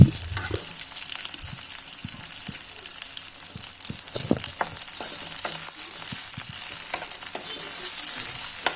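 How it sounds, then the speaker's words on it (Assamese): Potatoes and onions fry in a pan, a steady broad sizzle running throughout with scattered stirring clicks and scrapes, close and fairly loud, no talking. "আকৌ এনেদৰে অকণমান সময় মই ভাজিম।"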